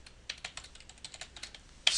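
Fingers tap a computer keyboard while filling in an Excel spreadsheet, a quick run of light, close clicks ending in a sharper keystroke, with no one talking.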